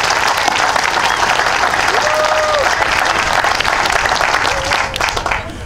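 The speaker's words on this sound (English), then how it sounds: "big round of applause for the kids" Outdoor crowd at a Highland Games welcoming ceremony applauds schoolchildren, steady dense clapping throughout with a few faint whistles and cheers, fading slightly at the close.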